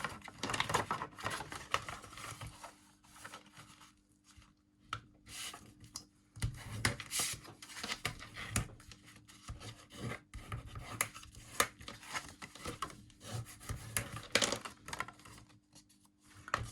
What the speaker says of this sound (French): Je vais plier en accordéon, ma pliure du milieu en montagne et les deux autres en vallée.